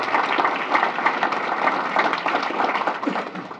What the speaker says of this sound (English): Another round of applause for the county,